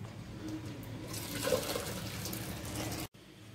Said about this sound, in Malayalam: ഇനി നമുക്കിതിലേക്ക് തിളപ്പിച്ച് മാറ്റി വെച്ചിരിക്കുന്ന പാൽ ചേർത്ത് കൊടുക്കാം.